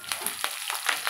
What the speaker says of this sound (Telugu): ఆయిల్ అనేది హీట్ అయింది. ఓకే, ఫస్ట్ పోపు ఐటమ్స్ వేసుకుంటున్నా.